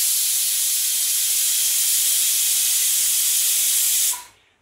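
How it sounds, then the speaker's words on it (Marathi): A pressure cooker on a stove vents a loud, continuous steam hiss close by, then cuts off abruptly near the end. "अशा प्रकारे आपली शिट्ट्या आलेल्या आहेत कुकरला."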